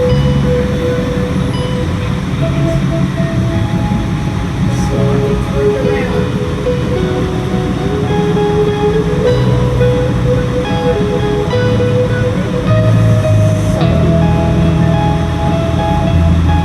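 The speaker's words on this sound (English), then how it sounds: "I took the train back down to Cambridge" Steady train interior rumble on a rail ride back to Cambridge, a continuous low roar with faint tonal hums, voices murmuring underneath throughout.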